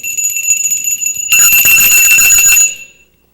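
An electric bell mounted low on a wall rings loudly in a sustained, shrill burst of about a second and a half, preceded by a fainter ringing tone and ending abruptly.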